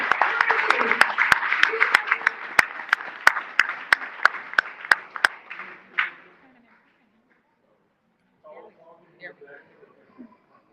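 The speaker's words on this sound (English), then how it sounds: "Let's applause for him" An audience applauds at a chess club award ceremony with a crowd's dense clapping and a few sharp individual claps standing out. It fades after about six seconds, and then faint voices are heard.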